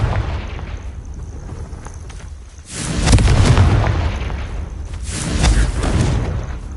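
Confringo blasting spell explosions in the Hogwarts Legacy video game: two loud, broad booming bursts, the first longer with a rumbling tail, the second following a couple of seconds later over steady background ambience.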